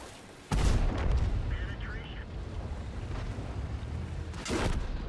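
A T44 tank's main gun fires in World of Tanks, a single heavy booming shot that erupts loud and close, then rumbles on under low battle noise, with a second burst near the end.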